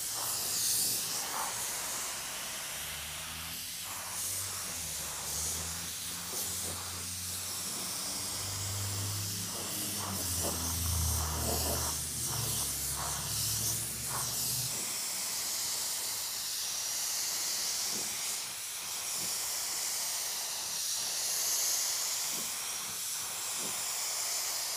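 A spray gun lays paint and clear coat over sanded primer on a car with a continuous airy hiss. The hiss is a little heavier with low rumbling in the first half and then runs on smoother and quieter.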